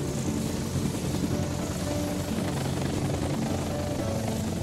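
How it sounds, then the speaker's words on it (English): A cartoon helicopter rumbles steadily with a low, pulsing drone, loud and continuous throughout the short stretch. "Fly up a bit, helicopter."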